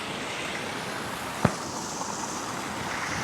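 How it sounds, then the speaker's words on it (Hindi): Sea waves surging onto the rocky shore at French Beach near Karachi, a steady broad wash of surf with one brief sharp crash partway through, no voices. "देखे किस कदर ज़ोर के साथ वो लहर टकराई है"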